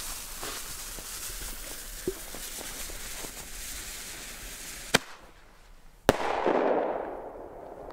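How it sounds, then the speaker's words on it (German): A Weko Flashbang firework goes off outdoors with a sharp loud bang followed by a second crack and a rushing burst, after a stretch of faint background noise. "Flashbang von Weko."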